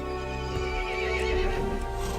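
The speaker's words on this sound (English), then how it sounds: "The horse grew angry and summoned the other monsters." A horse in a Resident Evil video game neighs loudly in a long wavering whinny, with hoof clip-clops and a steady ambient bed beneath.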